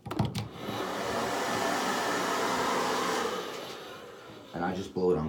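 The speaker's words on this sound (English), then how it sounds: "you're going to want to dry this inside portion with the dryer, making sure you can dry every piece out" Hair dryer blowing on the cool setting to dry the inside of a GP-5 gas mask, a loud steady close whoosh lasting several seconds, with handling clicks at the start and end.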